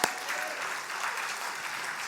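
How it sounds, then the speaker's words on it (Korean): A Korean church congregation applauds during a Sunday afternoon service: a dense, steady wash of many hands clapping together, moderately loud and sustained for the whole moment, with no talking over it. "박수 해야죠."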